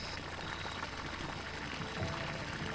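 Water drains out of a freshly dug pit for a safe room beside an A-frame home, a soft, steady trickling and pouring wash with a faint splash near the end.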